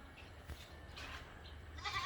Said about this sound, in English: That's just goats over there.